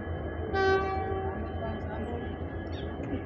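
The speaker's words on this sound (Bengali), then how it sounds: "একটি নতুন ট্রেন ঢুকছে দেখা যাচ্ছে" A passenger train pulls into a railway station on the line toward New Alipurduar, its horn sounding one long blast before the steady rumble of the rolling train carries on.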